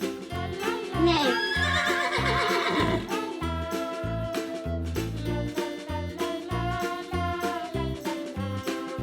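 A horse whinnies with a high, wavering call early on, then sits under steady rhythmic music that carries through the whole stretch.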